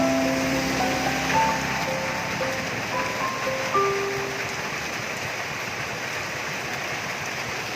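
Heavy rain pours down outdoors on a street, a dense continuous wash of hiss. Faint melodic tones drift over it early, then the downpour continues alone.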